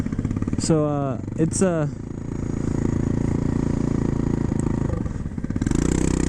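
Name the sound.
Honda Ruckus scooter engine running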